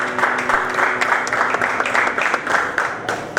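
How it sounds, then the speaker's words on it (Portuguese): A church congregation claps during an evening service, a steady crowd of hands with rhythmic accents and faint voices mixed in. "Aplauda o Senhor nessa noite."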